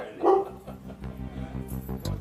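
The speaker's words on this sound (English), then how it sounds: "it's a large dog on the premises" A large dog on pub premises gives one loud bark up close, followed by lower rumbling noise and scuffling in the room.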